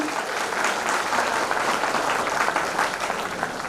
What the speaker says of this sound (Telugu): సార్ కోసం బిగ్ క్లాప్స్ అండి వన్స్ అగైన్